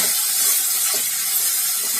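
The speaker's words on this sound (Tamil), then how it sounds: "ஒரு ரெண்டு நிமிஷம் தீயை லோ ஃப்ளேம்லேயே வச்சு நல்லா வதக்கிக்கலாம்" Masala with chili powder, coriander and turmeric powders sautés in a pan over a low flame for meal maker curry, giving a loud, steady sizzling hiss that continues unbroken with no voices.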